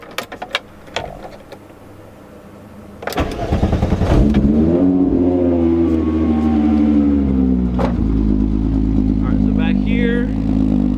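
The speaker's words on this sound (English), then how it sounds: "I'm just gonna pretty much drive up and down the driveway" A Mk3 car, recently fixed for rattles, sits quietly with small knocks before its engine fires up and runs at a steady, fairly loud idle, with a faint squeak near the end.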